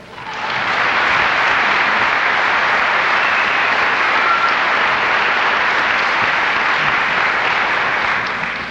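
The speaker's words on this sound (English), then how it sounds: "Another round of applause, please, for a very talented young man, talented grandfather," A concert audience at a 1986 Oxnard Christmas concert by the 15th Air Force Band of the Golden West applauds steadily, a dense, loud wash of clapping that swells in and holds throughout before easing slightly at the end.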